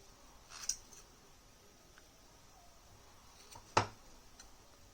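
Scissors snip macrame cord for a Christmas angel ornament, two brief crisp snips about three seconds apart in an otherwise quiet room.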